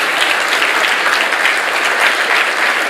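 Loud, sustained applause from a large audience at a central bank memorial lecture, an even roar of many hands clapping without pause.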